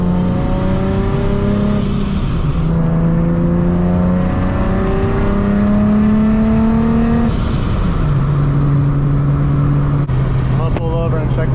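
A supercharged Nissan 370Z engine revs at about half throttle while driving, a loud, steady drone that climbs and drops through repeated rising pitch sweeps, heard from inside the car.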